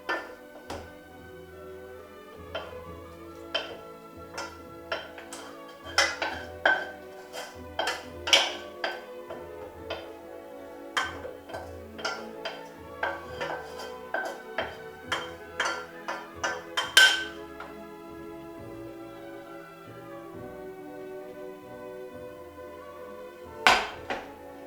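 Chopped onion and shallot tipped into a bowl in a kitchen while preparing a lamb terrine, with scattered bright clinks and taps of utensils against dishes, irregular and moderately close, some louder knocks amid quiet room sound.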